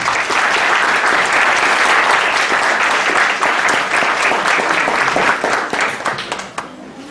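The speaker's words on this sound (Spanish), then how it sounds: "a quien les pido que le ofrezcamos un fuerte aplauso" An audience at a book presentation for a Mexican constitutional law title breaks into loud, sustained applause, dense clapping that holds steady and then thins out toward the end.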